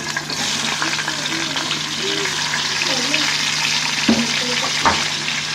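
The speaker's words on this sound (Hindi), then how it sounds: "अब इसी घी में हम ये हाफ़ टमाटर डाल देंगे" Tomatoes frying in hot ghee, a loud, steady crackling sizzle throughout, broken by a couple of utensil knocks against the pan near the end, with faint voices in the background.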